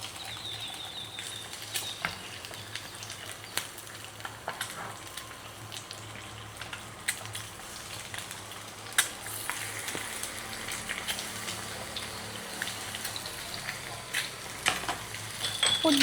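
Eggs sizzling and crackling in a hot frying pan as they are flipped, with a continuous close frying hiss broken by scattered pops and scraping stirs.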